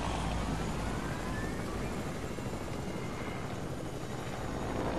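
A helicopter in the Fortnite video game fills the scene with a loud, continuous rotor roar and dense broadband rumble, steady and close throughout, with no speech.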